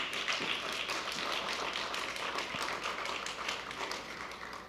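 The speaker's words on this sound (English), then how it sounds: "I think that deserves a round of applause." Conference audience applause, a dense, steady wash of many hands clapping at moderate loudness that continues throughout with no speech.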